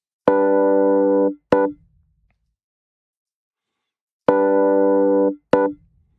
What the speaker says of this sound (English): we have an instrument patch called the Lux Classic